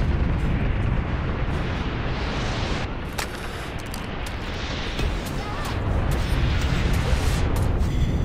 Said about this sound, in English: Deploying orbital laser.